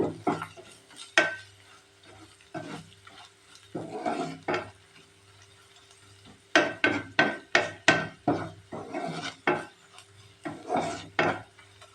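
Egg masala being stirred and sautéed in a pan, with repeated scraping and clinking strokes of a utensil in irregular bursts, close and fairly loud, separated by short quiet gaps.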